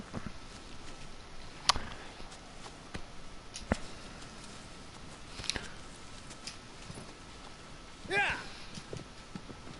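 A horse gallops in the Shadow of the Colossus video game, its hooves giving faint, soft clip-clops under steady game ambience, with someone talking and a few sharper knocks standing out.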